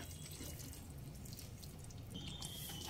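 Cornflour mixed with water poured little by little into a cooking pot, a steady continuous liquid pouring and splashing sound throughout, close and moderately loud, with no talking.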